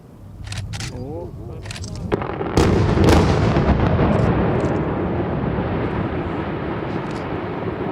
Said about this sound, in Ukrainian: Саме так вибухнуло 14 тонн вибухівки на Малинському кар'єрі.